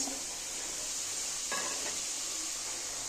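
Ginger, cumin, onion and green chilli paste sizzles in a pan for a Bengali-style fish curry, a steady bright hiss with a brief stir or clink partway through and no talking.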